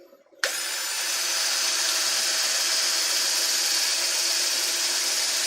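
A power drill starts abruptly and runs steadily at a high, even whine on a wood turning job, loud and close with no pauses.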